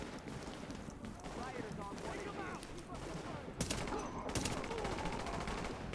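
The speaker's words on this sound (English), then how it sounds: "That guy's shooting at me instead of the guy that's actually hitting him with bullets." Gunfire in the video game The Division, with bursts of automatic shots crackling over a noisy battle ambience, getting louder and sharper in the second half while someone talks over it.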